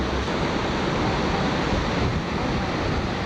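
Water waves splashing, heard as a dense, steady rush of broadband wash with no distinct breaks, loud and continuous throughout.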